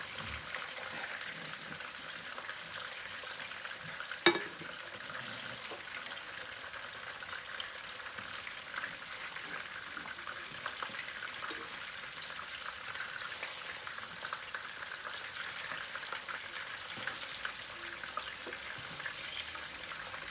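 Anglo-Indian mince cutlets frying in a pan, a steady faint hiss and crackle of oil that carries on evenly, with one sharp tap near the start and no voices.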